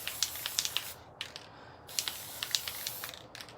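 Several short hissing bursts from a spray paint can in quick succession, with brief pauses between them, close and moderately loud.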